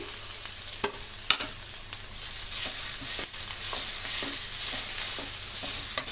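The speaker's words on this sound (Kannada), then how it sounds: "ಈಗ ನಾವು ಒಂದು ಮೂರು ಬೀಟ್ರೂಟು ತುರಿದಿರುವಂಥದ್ದು ಹಾಕ್ತಾ ಇದ್ದೀನಿ" Grated beetroot sizzles steadily in a hot frying pan, a bright continuous hiss punctuated by sharp spatula scrapes and taps as it is stirred, close and alone.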